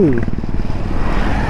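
A motorcycle engine roars close by with a rising-then-falling whine as motorcycles pass on a road in West Nepal, blended with wind rush and a voice partly audible underneath.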